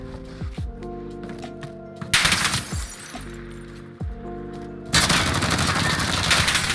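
Sharp bursts of automatic gunfire in a video game erupt twice, a brief volley and then a longer loud stretch, set against steady droning tones from the game.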